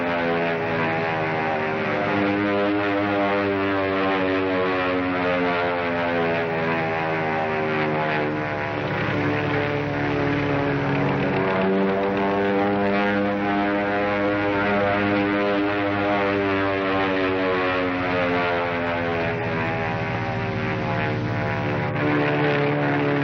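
A 1930s propeller airplane engine drones steadily overhead, a loud continuous multi-toned hum sustained from start to finish with a slowly shifting pitch as it passes.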